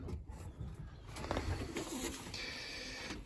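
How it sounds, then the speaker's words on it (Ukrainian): Young pigeons softly cooing nearby, low murmuring calls mixed with rustling and handling noise in a quiet setting. "ми отримали отаких ось голубочків"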